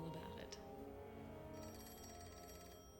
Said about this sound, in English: Want to get the phone?